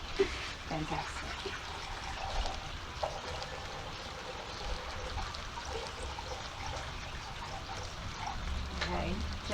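Liquid poured into a measuring cup during a kids' science experiment, a steady soft trickling stream running for several seconds under faint background voices and room noise.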